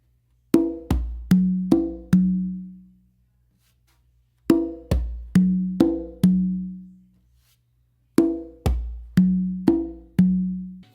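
Bolero rhythm on congas with slaps, open tones and bass tones, three repeated phrases of five sharp ringing strokes separated by short pauses, close and clear with no talking.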